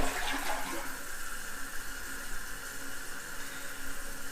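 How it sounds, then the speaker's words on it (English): A household toilet with a broken flush valve that is being adjusted flushes loudly, with a rushing surge of water at the start that settles into a steady hiss of refilling. "Flush it again."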